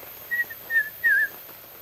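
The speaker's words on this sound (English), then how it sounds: "They're often called the whistling frogs." Three short, high whistling notes from whistling frogs, each a little longer than the last, with brief pauses between them over quiet night background in the Daintree forest.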